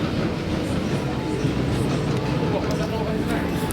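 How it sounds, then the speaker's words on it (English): An empty Colossus roller coaster train at Thorpe Park rumbles past as a steady, continuous rail roar with faint clatter, heard close under a busy crowd murmur. "they just sent an empty train through"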